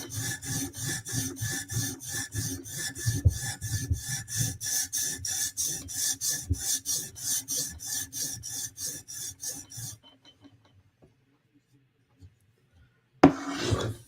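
A knife blade is drawn back and forth over a sharpening stone in steady, even rasping strokes, close and loud for about ten seconds, then it stops into near silence before a brief scrape returns.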